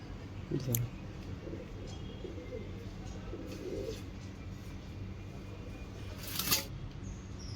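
Pigeons kept by a breeder cooing softly in low, faint bursts against steady background noise, with a couple of brief sharper sounds between them.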